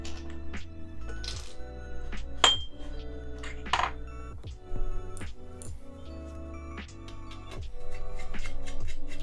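Small M2 screws clink and ping against a little metal tray, a close run of bright, irregular taps and rattles over a steady low background hum.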